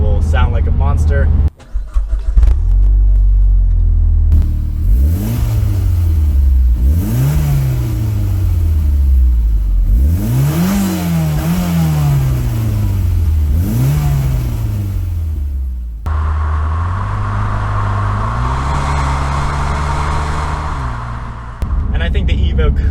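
A stock 2013 Mitsubishi Lancer Evolution X MR with its original exhaust starts up and is revved repeatedly, the engine note climbing and falling in several sharp swells before settling into a steady idle, loud and close.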